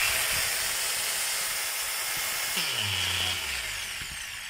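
An electric power tool, plugged in and suspected of a worn bearing, runs with a loud, harsh whine and hiss; partway through, its pitch sweeps down as it slows.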